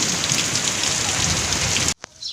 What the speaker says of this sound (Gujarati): કેવો વરસાદ પડી ગયો